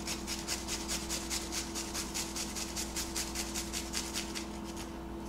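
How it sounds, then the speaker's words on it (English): Garlic is grated on a hand grater while preparing beef and broccoli, a close, steady series of rhythmic scraping strokes repeating about four times a second. "And I'm going to also grate my garlic."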